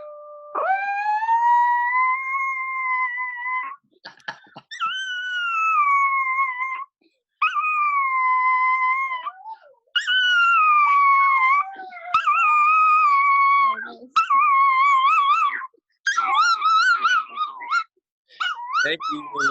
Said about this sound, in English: Our other dogs won't stop.